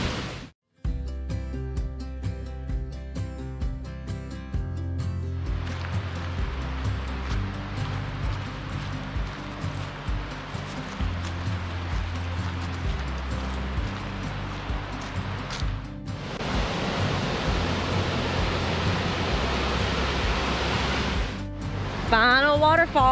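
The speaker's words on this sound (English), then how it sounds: "Final waterfall here at Old Stone Fort, y'all. Step Falls." Steady broadband rush of Step Falls, a waterfall at Old Stone Fort State Park in Tennessee, continuous and fairly loud, with talk and music heard over it.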